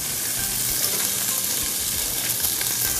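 Salmon fillet of about 180 grams frying in hot oil in a restaurant kitchen, a steady, dense sizzle and crackle that holds evenly at close range for the whole stretch, with no voices.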